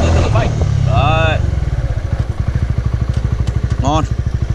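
Honda Winner X motorcycle on a test ride, its engine loud and close with a rapid, even putter that settles into a pulsing rhythm, while someone talks over it at the start and again near the end.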